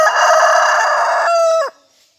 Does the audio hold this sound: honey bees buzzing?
no